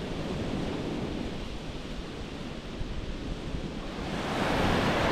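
Waves roll onto a sandy Lake Superior beach, a steady close-up wash of surf with gusty wind buffeting the microphone, building louder toward the end.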